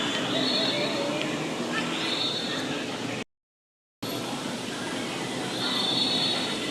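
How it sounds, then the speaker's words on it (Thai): A Bangkok skytrain runs past with a steady, loud rolling rumble and faint wheel squeal, broken by a brief dropout before the train noise resumes at the same level. "รถไฟวิ่ง ท่านผู้ชมรถไฟวิ่ง"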